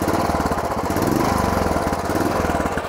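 A Royal Enfield Bullet Trials motorcycle with an upswept exhaust idles close by, its single-cylinder engine giving a steady, rapid thumping pulse that continues without a break.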